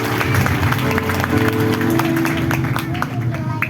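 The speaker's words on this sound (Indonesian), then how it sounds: "Berikan tepuk tangan buat Tuhan Yesus." A church congregation claps together, dense and continuous, with voices and cheers mixed into a busy crowd sound.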